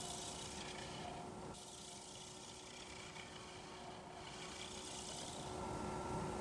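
A soft, continuous scraping rasp of a negative rake scraper against a spinning ambrosia maple bowl on a lathe, steady with slight shifts in intensity and no talking.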